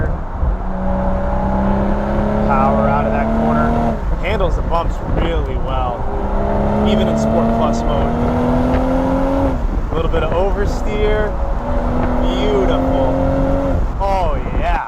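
BMW M440i xDrive Convertible engine pulling hard through tight mountain corners, rising in pitch under throttle, dropping sharply on braking and shifts, then climbing again, loud and close with someone talking over it.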